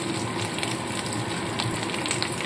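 Small fish shallow-frying in a pan for a spicy small-fish curry, giving a steady, dense sizzle with bubbling oil that holds at an even level throughout, close by and with no talking.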